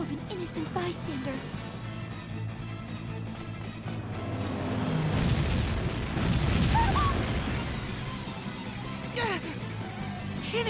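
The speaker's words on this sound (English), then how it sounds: "Cannon fire?" Cannon fire in the Bravely Default video game lands as a swelling, rumbling boom midway through, amid game music and character voices, with lighter bursts and effects scattered around it.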